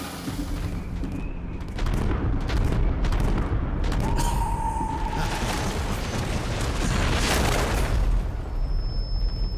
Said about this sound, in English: Proceed to fire the cannons.